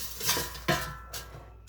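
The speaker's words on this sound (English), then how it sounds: "so I'm going to go ahead and flip them" Metal tongs clank against an air fryer basket while pork chops are flipped, giving a few quick clinks and scrapes with a faint sizzle, close and fairly quiet.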